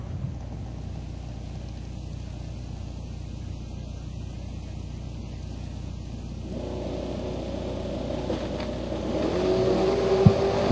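A Datsun 240Z and a blue Camaro at a drag-strip bracket race, engines idling loudly before one rises into a revving launch near the end.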